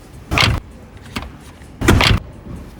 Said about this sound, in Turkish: Kapı kapanma sesi çok kötü ya.